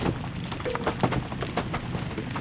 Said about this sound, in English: Who would have thunk we'd come to Oregon and have hail like that?